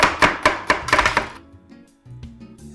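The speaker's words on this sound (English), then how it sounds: "I'm going to slice up some celery." Quick run of crisp knife chops slicing celery on a cutting board, about eight sharp strokes close by, followed by quieter handling sounds.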